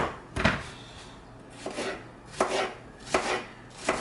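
A knife chops an onion sharply on a board, five or six distinct strokes at an uneven pace, close and fairly loud.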